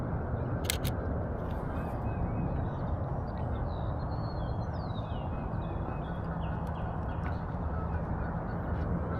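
Geese honk faintly in the distance at Great Bridge Lock Park, a few scattered calls rising over a steady, quiet outdoor background noise, with no talking.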